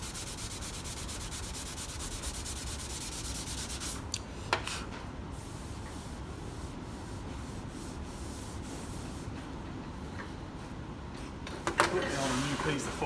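400-grit sandpaper rubbing over an aluminum panel during body repair, a continuous close rasping scrub with brief pauses and knocks, a voice speaking over parts of it.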